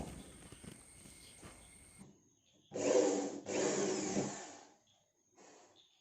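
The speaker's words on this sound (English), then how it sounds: "You can see how easily it removes the rusted screws." An iBELL 650W ID1380 impact drill removes rusted, corroded screws, giving two close, loud whirring bursts of a couple of seconds each, then a shorter burst after a pause, preceded by handling knocks and rubbing.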